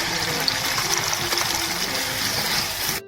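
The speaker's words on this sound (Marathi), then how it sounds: "आता पाणी ऍड करूया" Water streams steadily into a pan for a few seconds, a continuous close gushing pour that cuts off abruptly at the end.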